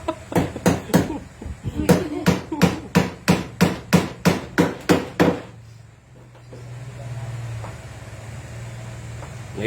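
Nails driven into wood by hand during house repairs, a rapid run of about fifteen sharp, evenly spaced hammer blows, loud and close, then stopping, leaving a low steady hum and faint background noise.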